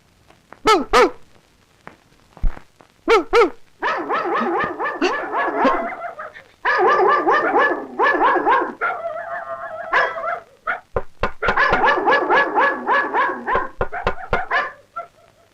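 A man mimics a dog barking, first with a few sharp separate barks, then a long run of rapid yapping and whimpering yips, loud and close, broken by short pauses.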